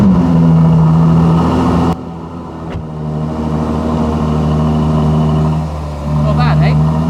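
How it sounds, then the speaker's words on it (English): A Ferrari 12Cilindri engine on a cold start holds a steady, loud, low mechanical drone, with voices talking over it throughout. "So this always sounds really good on the cold start."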